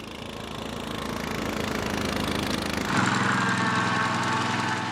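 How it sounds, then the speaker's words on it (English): A CC36 multifunction vehicle used as a mower runs with a steady, droning engine close by, its tone shifting partway through into a brighter, harder-working whine as it continues without pause. "Actually, the CC36 is primarily a mower."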